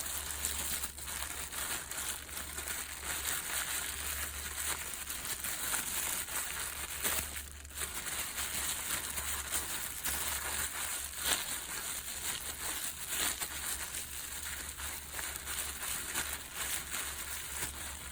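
Hands squeeze and massage oil into a foam air filter from a lawn mower engine, making faint, continuous soft crinkling and squishing close by, with no talking.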